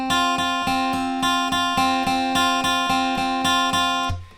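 Electric guitar picking a pre-chorus pattern on the top two strings, each struck twice in turn, a steady repeating run of bright, even notes played alone, ending with a brief fade.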